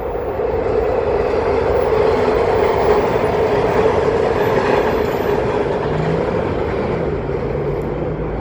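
A four-car MARTA Gold Line train rolls across a rail bridge near West End station, a steady, loud rumble of wheels and cars holding for the whole stretch without pause.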